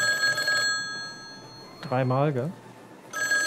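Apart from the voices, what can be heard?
red telephone ringing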